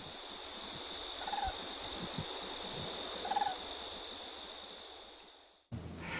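Migrating greater sandhill cranes at Phyllis Haehnle Sanctuary give two short, rolling, rattling calls from a distance. The calls are faint over a constant hiss of outdoor background noise.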